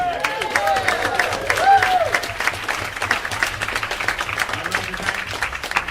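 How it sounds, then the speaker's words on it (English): Applause from a live audience at a stage show, a full round of clapping mixed with some cheering and whistles, loud at first then thinning into more separate claps toward the end. "So can I get a round of applause?"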